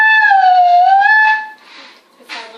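A breathy whistled tone from a flute head joint played like a slide whistle glides down and back up in pitch, then fades into soft air noise and a brief rising squeak.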